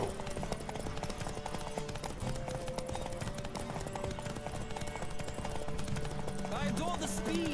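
Horse hooves clip-clopping at a gallop in The Witcher 3, a steady rapid beat under game music and ambience, with a voice talking over it and a brief whinny near the end.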